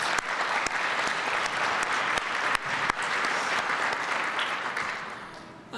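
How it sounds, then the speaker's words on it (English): At a symposium on trauma-informed response to violence, the audience applauds warmly, a full, sustained roar of clapping with a few sharp, close individual claps standing out, gradually thinning toward the end. "So let's give her another round of applause"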